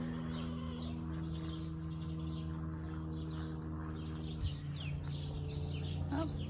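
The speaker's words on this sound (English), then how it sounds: "Listening to the birds." Small birds chirp and tweet around a farm in early June, scattered calls over a steady low hum, with faint background activity and a brief knock midway.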